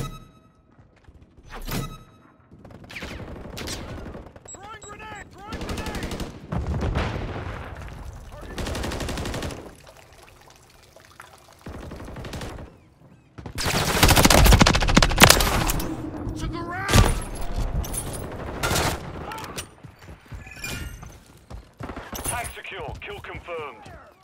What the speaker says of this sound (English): Taking fire! Multiple movers!